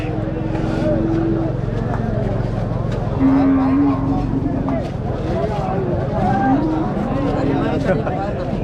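Cattle moo several times through a busy outdoor din of crowd chatter and movement at a crowded weekly cattle market in Mattrapalli, the lowing calls rising above the steady background noise.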